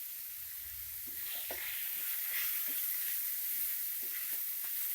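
Drumstick leaves fry in a pan over a medium flame, giving a soft, steady sizzle with a few light stirring scrapes and taps, close but quiet.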